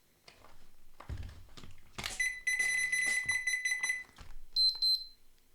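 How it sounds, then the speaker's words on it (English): A shrill electronic multimeter beeps in long steady tones and short pulsed bursts, close by, after some clicking and handling noises, while testing a Cougar GX 800W power supply under repair. "this bloody multimeter is a beeping crap of shit"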